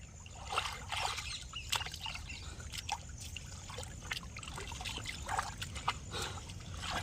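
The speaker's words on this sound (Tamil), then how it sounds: "இருங்க, கொஞ்சம் நீச்சல் அடிச்சுக்கிறேன்" Someone swimming in open water near a small island, with soft, steady splashing and trickling strokes over a low, continuous outdoor wash, fairly faint and without talk.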